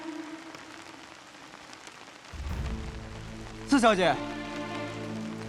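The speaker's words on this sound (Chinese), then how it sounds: "这雨下不长久的。" Steady rain falling on surfaces outdoors during a storm in a period drama, a continuous hiss that thickens partway through, with someone speaking over it.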